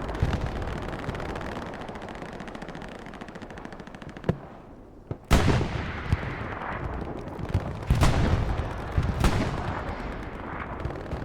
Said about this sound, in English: Bombardment here by Syndicate.